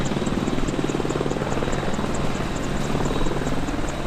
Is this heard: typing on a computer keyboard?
no